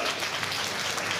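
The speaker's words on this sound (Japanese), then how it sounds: "みんなキキに拍手だ。" Audience applause at a Tokyo DisneySea Turtle Talk show, a steady wash of clapping filling the short clip at moderate level without pauses.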